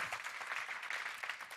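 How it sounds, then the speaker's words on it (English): Audience applause at a research-policy day event, dense steady clapping filling the short moment without pause, moderately loud and close, with no voices standing out above it. "A big applause."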